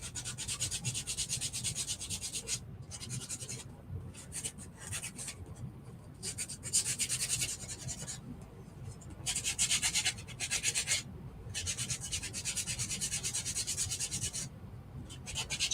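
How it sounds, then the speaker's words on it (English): Edges of a chunky wooden shim tree craft piece being sanded by hand, a loud, continuous close-up rasping rub in back-and-forth strokes with brief pauses. "so I'm just gonna sand the edges a little bit to expose some of that natural"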